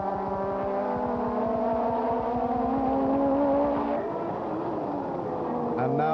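Formula One race cars from 1983 sweep through the Woodcote chicane at Silverstone, a sustained engine whine rising and shifting under steady commentary, with a sharper note change near the end.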